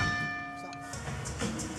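A single bell marks the start of round 2 at a Bellator MMA fight, ringing clearly for about a second before fading into arena crowd noise.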